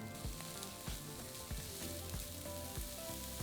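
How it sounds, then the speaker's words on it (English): Diced onion and minced garlic fry in a pot with a steady, close sizzle that runs throughout, dotted with occasional soft stirring knocks. "Add in a large onion that's been diced and fry gently for a couple of minutes until the onions start to go translucent"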